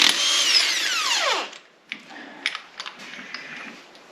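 A power tool whines loudly for about a second and a half, spinning a 1 1/4 inch crank bolt off a Mopar 400 engine, its pitch sliding down as it stops, followed by a few sharp metallic clicks and clanks.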